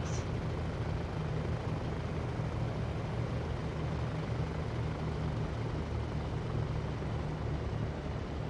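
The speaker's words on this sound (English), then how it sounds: "It's just the Spitfire taxiing." A Spitfire taxiing on the ground in IL-2, its engine a steady low droning rumble held at a constant level throughout, with no talk over it.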